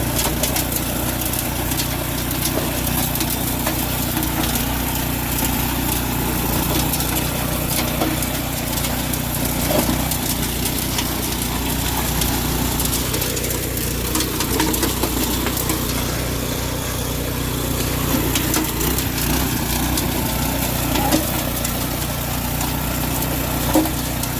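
A new garden tiller from Home Depot runs continuously while churning dirt, a steady loud small-engine drone with scraping and rumbling from the soil and kicked-out rocks.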